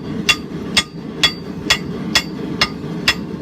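Hammer forging a blacksmith's rounding hammer on an anvil, working the round die by hand without a striker or power hammer: seven sharp, ringing blows at a steady rhythm, close and loud over low shop rumble.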